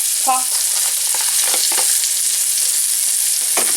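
Chopped vegetables tipped into hot oil in a pot, frying with a steady loud sizzle throughout, broken by a few scrapes and stirring knocks.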